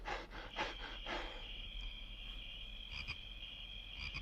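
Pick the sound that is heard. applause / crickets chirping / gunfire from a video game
crickets chirping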